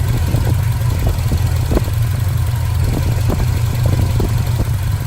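Engine of a square body truck fitted with Holley Sniper EFI, running rich at idle: a loud, steady low rumble close by with faint rhythmic knocks on top and no voices.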